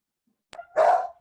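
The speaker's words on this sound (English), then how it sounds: "these dogs are not going to shut up" A dog lets out a single short, sharp bark, preceded by a brief click, close and fairly loud against an otherwise silent indoor room.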